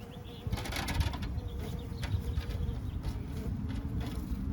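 Honeybees buzz around a hive during roller-coaster weather, a close, continuous hum with individual bees droning past in short, brighter swells.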